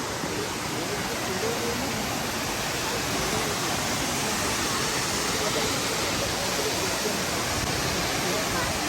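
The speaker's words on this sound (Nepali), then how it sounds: "यो चाहिँ पहिलो झरना, दोस्रो झरना अलि माथि गएको थियौँ हामी" Steady, loud roar of a waterfall at Morialta Falls near Adelaide, South Australia, a dense unbroken rush of falling water filling the whole clip without pause.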